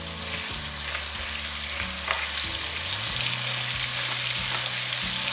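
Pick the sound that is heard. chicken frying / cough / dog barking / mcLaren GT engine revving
chicken frying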